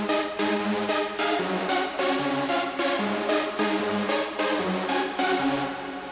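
Layered Serum saw synth patches playing together: a dense, buzzing chord pattern pulsing in a steady rhythm with shifting low notes, continuous and moderately loud.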